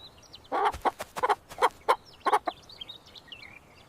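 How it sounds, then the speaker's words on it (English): A chicken clucking in a run of short, loud bursts over a couple of seconds, with faint bird chirps behind it. "chicken"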